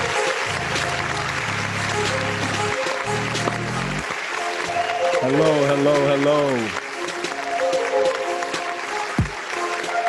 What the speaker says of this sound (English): Oh, the applause is too much